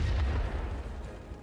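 Heavy aircraft cannon fire from 30mm guns in the air-combat game World of Warplanes, a dense, continuous low rumbling roar of rapid shots held steady at close range throughout.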